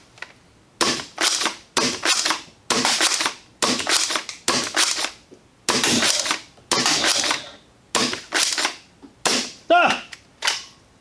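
Rifle shots from close-range plinking, about a dozen sharp loud cracks fired in a steady, evenly spaced rhythm, each with a short decaying tail, and no talking.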